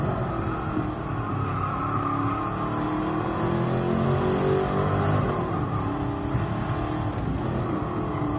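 Classic dream car engine revving and pulling hard up a tall hill at the Nürburgring in GT Sport, a steady loud drone with rising and falling engine pitch and no talk.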